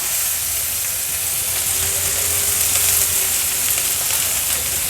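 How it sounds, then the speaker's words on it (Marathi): Finely chopped onion frying in a pan, a loud, dense and continuous sizzle with steady hiss and no pauses throughout. "ह्याच्यामध्ये बारीक चिरलेला कांदा आपण ॲड करूया। कांदा छान शिजवून घ्यायचा आहे आपल्याला।"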